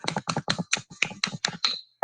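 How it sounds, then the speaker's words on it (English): Ten sharp hand claps in a steady, quick rhythm, close and clear, with a short pause before the final clap. "10 claps."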